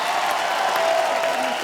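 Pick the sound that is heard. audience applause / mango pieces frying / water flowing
audience applause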